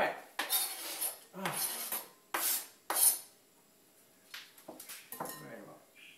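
A knife cuts through onion slices on a board in a home kitchen, a series of crisp separate chops and scrapes with short gaps between them, close and fairly loud, then softer clicking at the end.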